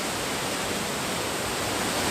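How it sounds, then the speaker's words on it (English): Two waterfalls roar nearby as a dense, steady rush of falling water, loud and unbroken with no voices. "I just love those two waterfalls."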